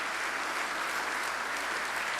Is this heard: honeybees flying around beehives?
no